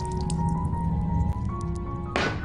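Water thrown onto a drunk person's face in a Korean drama scene: a soft wet splash and drip heard close, over a steady background tone, ending in a sudden burst of splashing water.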